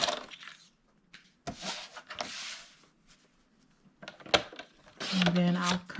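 Paper or cardstock for a birthday notecard is cut down in short, crisp bursts of snipping and rustling, close and fairly quiet, with gaps of near silence between cuts and a brief voice near the end.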